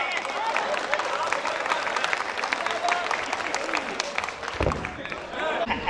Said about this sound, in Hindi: बहुत शानदार, तालियां बजाओ।